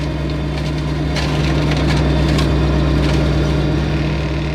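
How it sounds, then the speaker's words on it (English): Tractor-driven flail mower working overgrown, neglected trails, its drive shaft U-joints binding when the top link angle is wrong; a loud, steady engine and rotor drone runs throughout with gritty crackling of shredded brush. "That sound you just heard was the U-joints."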